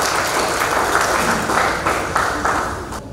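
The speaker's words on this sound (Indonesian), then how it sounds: "Mari kita kasih aplaus dulu kepada pengurus." Applause at a credit union cooperative's annual members' meeting, honoring the board: a dense, steady crowd clapping at close range that swells in a few rhythmic waves and stops abruptly near the end.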